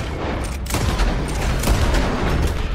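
Dense, rapid bursts of gunfire in the video game Red Dead Online, loud and close, forming a continuous rattling barrage for the whole stretch.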